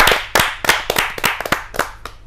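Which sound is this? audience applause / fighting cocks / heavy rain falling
audience applause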